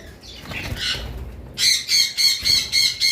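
A bonded pair of pineapple conure parrots lets out a run of about six harsh, rhythmic squawks in quick succession, loud and close, after a quieter stretch of soft rustling.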